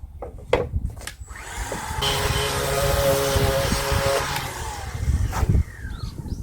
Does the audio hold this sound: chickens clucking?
no